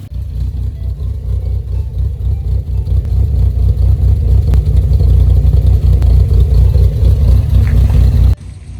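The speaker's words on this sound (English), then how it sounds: "car's running good. Sounds the same. Still loping at idle, which I like." A Mazda MX-5 NC engine runs steadily with a lumpy, loping idle, a deep rumbling hum under faint clatter, close by and loud, cutting off abruptly near the end.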